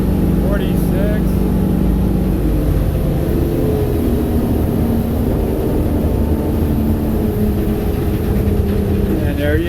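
Engine of a Stabi 2250 Ultracab boat running at a steady idle, loud and close, a continuous low throbbing hum with no pauses and faint speech mixed in.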